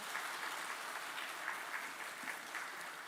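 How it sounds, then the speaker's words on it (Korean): Steady applause fills a reverberant church during a Sunday morning service, a continuous patter of many hands clapping without pause. "우리 박수 부탁하겠습니다."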